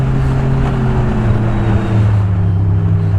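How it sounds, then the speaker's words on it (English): A 250 HP Renegade X-RS snowmobile engine runs close by with a smooth, steady droning hum and little change in pitch, with no other sounds over it. "For a 250 horsepower, you know, sled, it's super smooth."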